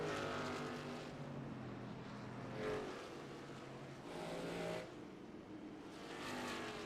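Race trucks at Dover roll into the pit lane under caution, a steady engine drone with several swelling pass-bys, moderately loud and without talk.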